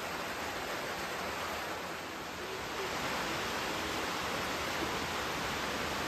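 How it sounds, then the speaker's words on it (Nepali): Heavy rain pours down in a Nepali village, a loud, unbroken wash of broadband noise that stays steady and even for the whole stretch, with no clear voices. "पानी त जोडको आयो त हौ"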